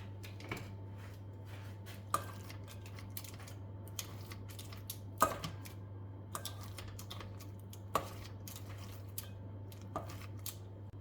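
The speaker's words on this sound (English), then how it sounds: "so I'm gonna cut this with scissors" Kitchen scissors snip through thin-sliced beef in sparse, sharp clicks spaced a second or two apart, close but quiet over a steady low hum.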